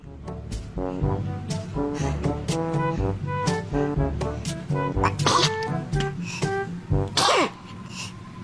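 A baby's sneezes mixed with playful voices and vocal sounds, including a sharp, noisy burst near the end; an adult may be imitating sneezes.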